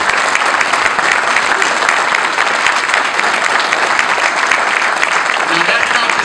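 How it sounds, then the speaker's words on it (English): Audience at an American Legion gathering breaks into sustained, dense applause, a steady loud wash of clapping hands lasting throughout without pause. "I believe he deserves a big round of applause."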